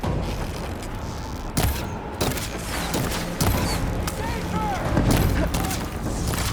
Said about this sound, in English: I should fire at the machine riders on the field.